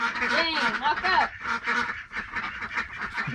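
Domestic ducks quack at a small rural farm in Texas, a steady chorus of nasal calls running throughout, mixed with people talking nearby.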